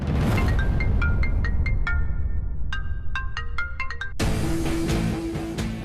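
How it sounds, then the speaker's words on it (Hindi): Phone ringtone playing a repeating melodic electronic tune of bright tones, fairly loud and close, followed by a denser steady tonal stretch with no talking. "रिंग हो रहा है, रिंग हो रहा है"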